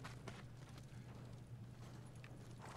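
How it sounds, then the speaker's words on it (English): Samurai horses' hooves thud in the video game Ghost of Tsushima: a few scattered, soft hoof strikes spaced apart over a steady low background hum. "They're samurai horses."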